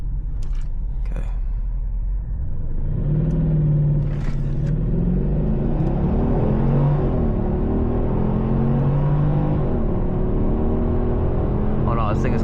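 A Mercedes CLS 550 with a V8 engine pulls away hard after a brake boost, its deep rumble rising steadily in pitch as it accelerates from inside the cabin, loud and sustained throughout.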